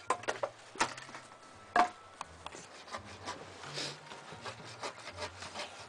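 Wood is being sawn by hand outdoors in a nature setting, with quiet, uneven rasping strokes and a few sharper knocks, heard faintly and at close range.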